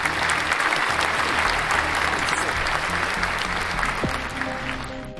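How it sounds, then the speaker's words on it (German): Studio audience applauding a guest on a gaming show, a loud, sustained burst of many hands clapping close by, steady throughout, with faint background music tones underneath and a slight fade at the end. "Den besten Applaus."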